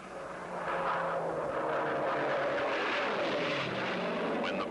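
Piston-engine propeller race plane on an 8-mile oval air-race course, its engine drone loud and steady throughout with a sustained tonal hum and broadband roar, no talk over it.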